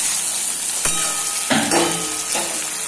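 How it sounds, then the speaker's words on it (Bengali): Tomatoes dropped into fried onions in a pan for a fish curry set off sudden bursts of loud sizzling, which settle back into a steady close hiss with a few crackling pops and no talking. "এবার টমেটো গুলো দিয়ে দিলাম।"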